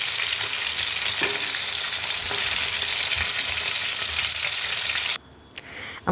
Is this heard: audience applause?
no